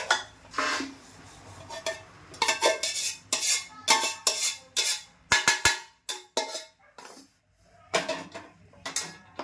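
Roasted besan flour being scooped out of a pan for ladoo, with repeated metal scraping and clanking of a spoon against the pan in quick irregular bursts, close and fairly loud.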